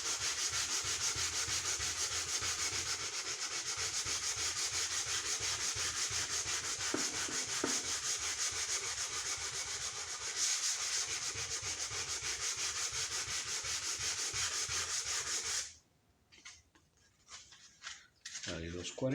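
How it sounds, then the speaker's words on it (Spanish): Hand sanding of wooden marquetry with 150-grit sandpaper: a continuous, close, raspy back-and-forth rubbing that holds steady for about fifteen seconds, then stops, leaving a few faint scrapes and handling noises. "Aplicamos ahora la lija de 150."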